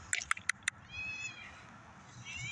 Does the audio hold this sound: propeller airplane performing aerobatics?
no